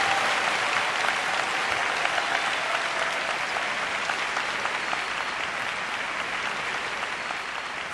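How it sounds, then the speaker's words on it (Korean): Church congregation applauding to welcome the pastor to the pulpit, a dense, sustained roar of clapping from many hands, loud and steady throughout. "우리 목사님 나오실 때 큰 박수로 환영해 주시기 바랍니다."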